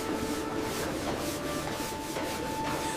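Floor scrubbing in an animated fairy tale, a continuous rhythmic brushing and rubbing at a steady, even loudness, with a faint tonal hum underneath and no talking.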